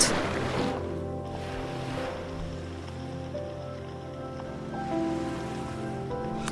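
Small waves wash softly against seaside rocks in a steady, continuous splash and slosh, with a slight swell near the start and again near the end, heard alone.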